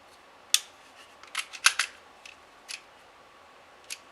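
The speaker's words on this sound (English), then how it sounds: "once you pull it all the way back to the rear, it will click back in place just like that" SIG P365 pistol slide being worked and clicking back into place, several sharp metallic clicks and snaps at close range, scattered unevenly against a quiet background with no talk.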